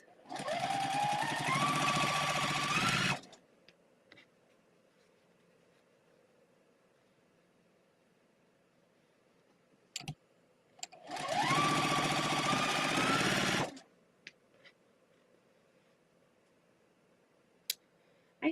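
Sewing machine stitching quilt bee blocks in two loud, close bursts of about three seconds each, separated by a long quiet stretch with faint handling clicks and small taps.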